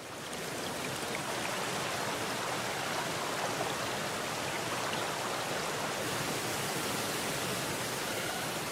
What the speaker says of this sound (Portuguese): as cachoeiras e córregos se unem, criando rios que esculpem seu caminho através da paisagem